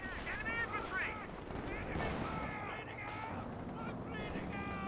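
An artillery barrage in Company of Heroes 2 strikes as a time-on-target salvo: muffled distant thumps and rumbling blasts sit under a commentator's continuous excited talk.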